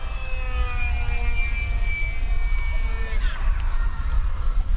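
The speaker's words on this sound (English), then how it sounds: "Ridiculously capable model, really is. And it's fast too." E-flite UMX Timber RC plane flying fast, its small electric motor whining in steady, gliding pitch that drops sharply as it passes, over windy outdoor rumble.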